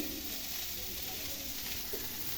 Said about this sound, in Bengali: ব্রোকলি বেশি ভাজতে লাগবে না